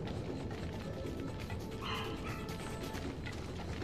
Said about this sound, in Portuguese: Minha cachorra tá latindo por causa do da campainha.